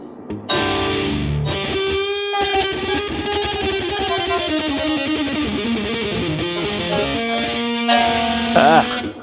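Electric guitar played through a metal tank amp preset on a Nintendo Switch portable amp setup, heavily distorted sustained chords and notes ringing loud and close, with brief pauses between phrases.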